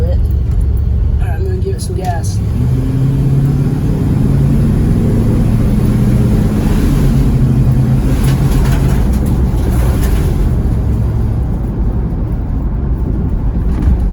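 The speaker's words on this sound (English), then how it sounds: "I'm gonna give it some gas." A Ford E-350 Econoline van with a lean-running engine accelerates, its low engine drone steady and loud throughout, with road and wind noise layered over the rumble.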